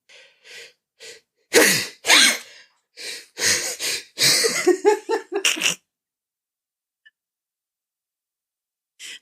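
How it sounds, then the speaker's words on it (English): A sneeze bursts out amid breathy giggles and gasps, followed by a few more short laughing bursts, then near silence. "I had to sneeze and I was trying not to do it"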